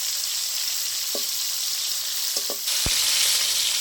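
Fish pieces frying in hot oil make a continuous close sizzle, broken by a few light utensil clicks and taps.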